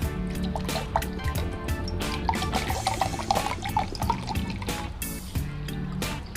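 Plain water is poured into a homemade fishing bait mixture containing sugar and MSG, producing a continuous loud liquid pour with splashing and dripping, close up and steady throughout.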